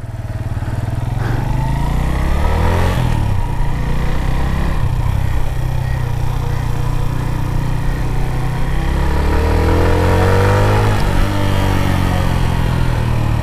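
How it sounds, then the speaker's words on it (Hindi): A Suzuki GS 150 Special Edition 2021 motorcycle engine runs loudly and close while riding, its pitch repeatedly rising and falling through gear changes over a steady throaty drone. "और अब मैं करने लगा हूँ बाइक स्टार्ट।"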